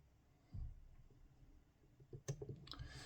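Discs inside an Anchor Las 800-3 disc detainer padlock being picked, giving a few faint, close clicks, the sharpest ones coming near the end over a quiet background.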